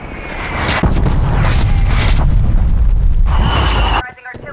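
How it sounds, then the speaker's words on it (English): Artillery strike in Call of Duty: Black Ops Cold War multiplayer lands as a heavy, booming series of close explosions with sharp cracks and a rolling low rumble, cutting off abruptly near the end. "Artillery inbound."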